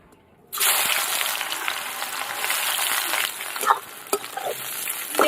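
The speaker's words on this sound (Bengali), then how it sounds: "এবার বেরেস্তা ভাজার জন্য সাদা তেল দিয়ে দেবো।" White oil for frying birista onions bursts into a loud, close sizzle after a brief silence, then crackles steadily with a few sharp pops and spatters toward the end.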